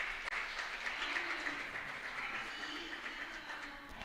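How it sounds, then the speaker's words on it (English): Applause for the panelists at a cooperatives conference, a fairly quiet but continuous patter of clapping from the audience in a hall. "Let's give them a round of applause."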